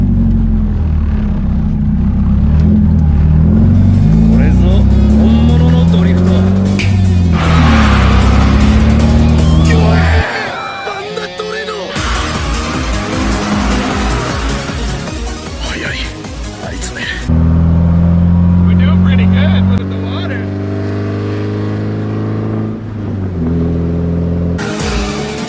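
A car engine revs and accelerates hard on a straight Florida road, loud and close, climbing in pitch through a few gear changes with abrupt drops between, while people talk over the engine noise.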